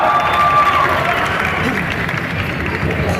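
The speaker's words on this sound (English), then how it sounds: "Once again, a round of applause for our honey bunny, Varun, Dhawan, and Samantha." Audience at a film teaser launch event applauding and cheering in a dense, loud burst of clapping that continues steadily throughout.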